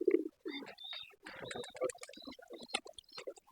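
Pigeons in a loft coo and call repeatedly at close range after rain, with low throaty bursts mixed among chirpy higher calls, steady and fairly loud throughout.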